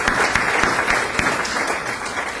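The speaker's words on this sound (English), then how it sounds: "So I think a round of applause for Janice and the entire council." Audience applause at a community event about pharmaceutical companies in East Windsor, steady clapping with several sharp, distinct nearby claps standing out from the crowd.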